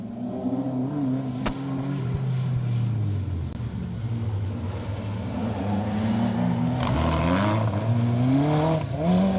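Peugeot 205 GTI rally car pulling away on a Menai stages rally stage, its engine revving hard through rising and falling gear pulls, loud and close, with no talk over it.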